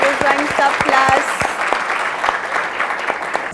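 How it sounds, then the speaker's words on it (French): A studio audience on a French television show applauds in a sustained patter, with a voice and brief tonal sounds over the opening second before the clapping continues and slowly thins. "On va demander d'applaudir pour qu'il rejoigne sa place."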